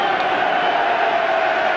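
Football crowd at Southampton's ground during a 1994 match against Arsenal, a loud roaring mass of voices barracking a player, dense and steady throughout with no distinct individual words.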